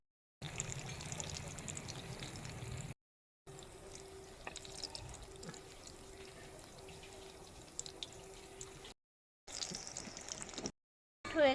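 Banana flower and lentil pakoras sizzle in hot oil, a faint steady fizzing and crackle broken by short gaps, heard close up with no talk.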